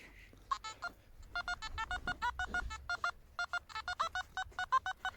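Metal detector signal over a spot where a denarius coin may lie in a field: a rapid series of short, sharp electronic beeps in a steady, repeating rhythm, close and clear against faint background noise, with no talking.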